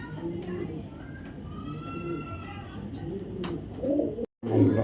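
Racing pigeons coo softly in repeated low throaty calls, with a faint murmur of background voices and brief rustling.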